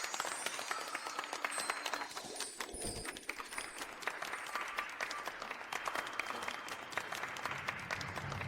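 Warm applause from wedding guests for the bride and groom, a steady crowd clapping wash that carries on throughout with a few brighter accents and faint murmuring beneath.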